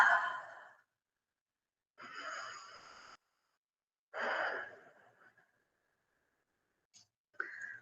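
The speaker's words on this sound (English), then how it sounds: "take deep breaths here. Breathe deep into the belly." Deep, slow breaths during a vinyasa yoga flow for the hips, three long airy exhalations with pauses of silence between them, then a couple of short breaths at the end, close and clear with no talk.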